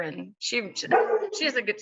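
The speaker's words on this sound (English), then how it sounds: "sorry about my dog" A pet dog barks and yips repeatedly in a home, in short bursts close by that mix with and overlap a person talking.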